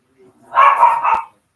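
A single dog gives a short, loud bark-like yelp followed by a brief whimpering tail, close to the microphone and standing alone in a quiet room.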